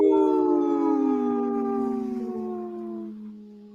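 A single long wolf howl rises and then slowly falls in pitch, loud and close, carrying alone for several seconds before fading out.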